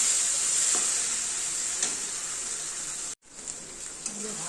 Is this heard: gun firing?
no